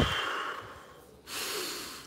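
Faint breathing during a slow self-defense exercise drill, a soft exhale fading out, a brief pause, then a steadier airy breath close by.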